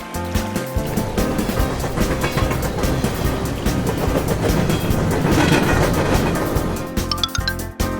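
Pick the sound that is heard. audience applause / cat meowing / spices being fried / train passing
train passing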